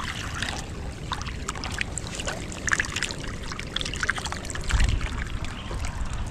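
Irrigation water flows on a farm, a continuous trickling and gurgling stream heard outdoors at moderate level, with a few scattered knocks and no clear talk.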